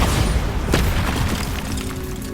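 A Bombarda spell explodes in Hogwarts Legacy, producing a deep, loud boom with a sharp crack at its onset and a rumbling tail that fades over about two seconds.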